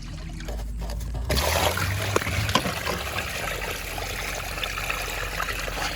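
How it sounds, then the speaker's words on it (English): Water trickles and splashes steadily from the drain plug at the bottom of a Pentair swimming pool filter, close by, with a few small clicks along the way. "So that is draining out the water."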